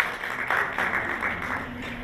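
An audience claps to welcome poet Erum Zehra at an Urdu poetry gathering, a short burst of moderate applause that swells and fades over a couple of seconds.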